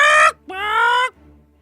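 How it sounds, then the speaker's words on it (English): A fowl-like harmonic cry in two bursts, the first short and the second longer and stretched like a crow, both loud and close, with a low hum lingering underneath. "Hey, is that a chicken, Mr. President?"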